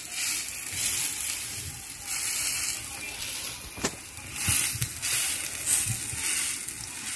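Potato pakora batter frying in hot oil, a steady close sizzle throughout with occasional spoon clinks and small bursts as the fritters are spread out and cook.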